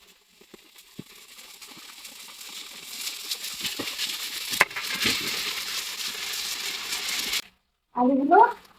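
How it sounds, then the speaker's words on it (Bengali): Pieces of chicken marinated with black pepper fry lightly in a pan, giving a soft, steady sizzle that slowly builds, broken by a few clinks. It cuts off near the end and a brief burst of other noise follows. "তো এখন আমি এগুলো হালকা করে একটু ভেজে নিচ্ছি।"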